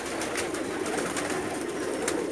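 Rampuri and mixed breed pigeons coo in a loft, a soft continuous murmuring of many birds close by, with occasional wing flutters and light rustles.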